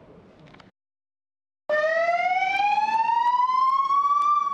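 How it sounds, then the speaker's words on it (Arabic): An ambulance siren on emergency medical duty during the Eid al-Adha holiday sounds a loud, steady wailing tone that slowly rises in pitch, following a brief low rumble and a moment of silence. "صافرة الإسعاف تعلن قدوم المساعدة."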